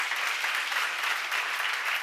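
Congregation at a church Bible seminary seminar applauds, a dense, even wash of many hands clapping without pause, moderately distant and free of speech.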